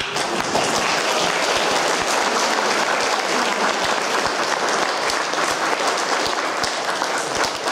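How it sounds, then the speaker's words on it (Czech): An audience at an open day of a Prague school for visually impaired students applauds a performer coming onto the stage. Loud, dense, steady clapping fills the whole stretch without a break. "A vy určitě můžete uvítat potleskem."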